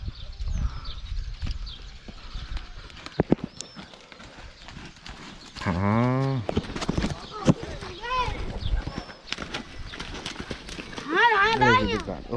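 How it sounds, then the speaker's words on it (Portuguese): Horse hooves clip-clop on a vaquejada track at a park, a steady rhythmic beat that continues under lively nearby conversation, with a few other animal calls and outdoor noise around. "Deixa eu dar uma voltinha no cavalo."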